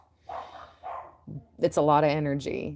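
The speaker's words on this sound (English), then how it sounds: "I'm sorry about the dogs in the background" Dogs bark and yip in the background, a few muffled barks early on, while someone speaks over them up close.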